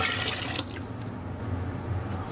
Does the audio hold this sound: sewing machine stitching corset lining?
no